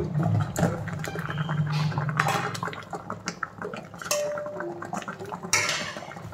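A metal lid clinks and scrapes off a covered kadai steaming mustard hilsa (shorshe ilish) set in water, with clattering pot and utensil knocks and a faint watery hiss, close and fairly loud.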